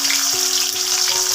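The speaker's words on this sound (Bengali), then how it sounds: "এই পেঁয়াজটা আমি কড়াতে তেলের মধ্যে দিয়ে দেবো।" Chopped onion hitting hot mustard oil with black cumin in a kadai, a bright dense sizzle that holds steady and loud for a short moment, no talking.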